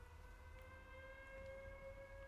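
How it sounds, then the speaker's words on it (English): A civil defense siren in the video game Everybody's Gone To The Rapture wails as a steady, faint, sustained tone throughout, heard alone without talk. "that's the siren for like if something deadly's gonna happen"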